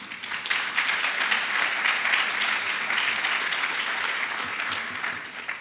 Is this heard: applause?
yes